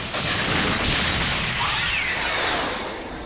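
In the Ultraman Mebius TV series, a burst of gunfire sounds as a dense, booming roar of blasts, loud and sustained for a few seconds before easing off.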